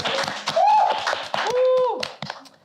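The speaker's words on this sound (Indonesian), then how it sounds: "tepuk tangan dong buat Gita dan Vira" Scattered claps from an audience welcome two performers, Gita and Vira, onto a stage; the irregular, fairly close claps are mixed with high, drawn-out whooping cheers.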